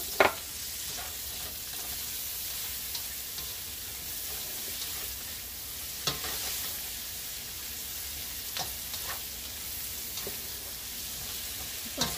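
Garlic and onion sautéing in a pan for beef and shrimp pancit, a constant hissing sizzle with occasional sharp crackles and spatula taps, fairly close, no talking.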